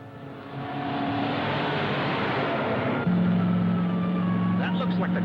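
A car engine runs steadily at moderate distance, its hum shifting to a steadier, slightly louder drone partway through, with brief higher tones near the end.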